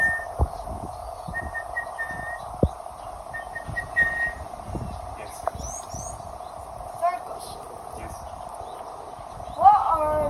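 A person imitates the call of the orange-breasted bushshrike of Botswana with a few short, thin whistled chirps heard close, between quiet clicks and faint background sounds.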